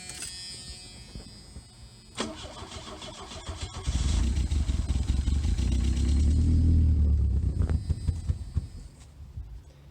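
Worn starter cranks the long-dormant 1982 Plymouth Reliant engine, which coughs and catches for a few seconds, rumbling louder midway before fading; close by with no talk.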